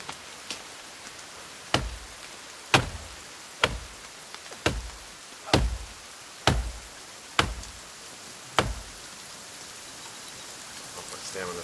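An axe chopping down trees in the survival video game The Forest: about ten sharp, evenly spaced wooden thuds, each roughly a second apart, over a constant hiss of rain.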